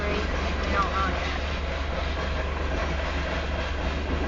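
A southbound Union Pacific grain train rolls past on the Spine Line, a steady, close rumble of freight cars that holds evenly throughout, with faint voices beneath it.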